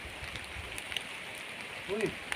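Steady rain falls outdoors during stormy weather as a broad, even hiss of drops on surfaces, with a brief voice near the end.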